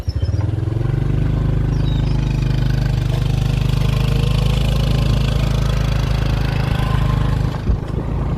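A motorbike engine runs steadily and close by in Sapa, a loud, even low drone with no talk that holds for about eight seconds before briefly faltering near the end.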